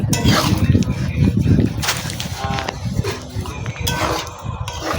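A metal pot gets covered with its lid during cooking of chicken with papaya: clanking and scraping clatters of metal on metal, fairly close, mixed with kitchen handling noise.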